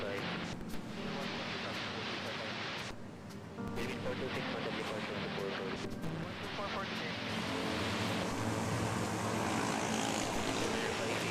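At Manila airport, an airliner touches down on the runway with a loud, sustained engine roar that swells toward the end, and someone talks over it throughout.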